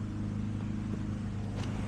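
A junk lawn mower's small gasoline engine runs after a carburetor replacement, a loud, steady low droning putter close by with no talk over it.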